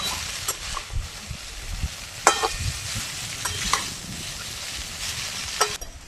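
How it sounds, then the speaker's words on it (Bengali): Vegetarian chowmein with soybean chunks sizzles in a pan while being stirred, with soft continuous frying hiss broken by scraping stirs and a few sharper clicks of the spatula. "এবার ভাজবো, আস্তে আস্তে ভাজা করবো নাড়াচাড়া করে"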